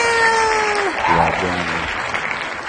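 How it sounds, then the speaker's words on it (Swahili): Brief studio applause welcoming the guest Blinky Bill, a short burst of clapping that stays fairly even. It sits partly under the host's voice and a tonal jingle. "A round of applause, please."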